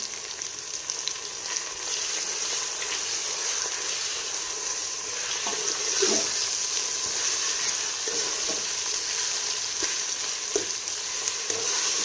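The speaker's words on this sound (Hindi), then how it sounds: "कीमा डालने के बाद हम इसकी अच्छे से भुनाई कर लेंगे।" Minced meat (keema) frying with a green chilli and garlic paste, a dense steady sizzle close up with occasional stirring scrapes and soft knocks, heard alone without talk.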